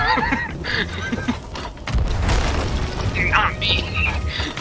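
A Blunderbomb weapon fires in a pirate video game, a loud booming blast with crackling bursts amid overlapping players' voices.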